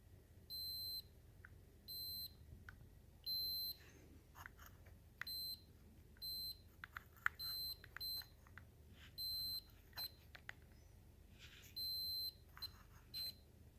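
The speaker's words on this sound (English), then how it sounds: "If you get the beep on it, if you get the beep on every single one of these spots, then we know that there's no dead spots." Repeated short, high electronic beeps from a multimeter continuity test on a Harley-Davidson 32E generator armature, sounding in brief bursts of varying length with gaps between, over faint handling clicks and background hiss.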